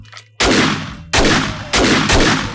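After a brief quiet moment, three loud explosive-arrow detonations in 7 Days to Die's Darkness Falls mod hit in steady succession, each a sharp crack with a long rumbling decay.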